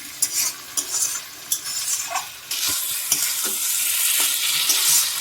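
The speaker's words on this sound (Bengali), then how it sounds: "আলুর সাথে মশলা ভালো করে কষিয়ে নিয়েছি।" Potatoes are sautéed with spices in a pan. A spatula scrapes and stirs in repeated close strokes over a soft, steady sizzle.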